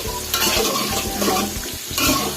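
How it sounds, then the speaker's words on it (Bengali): Koi fish and cauliflower sizzle in hot oil with a constant crackling hiss, and a utensil scrapes and stirs in the pan in short strokes. "মাছটা ওই দুটি ভাজা হচ্ছে"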